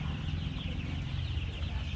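Kaveri gavran chickens at a poultry farm cluck softly and continuously close by, a low murmuring chorus of fowl with faint background noise.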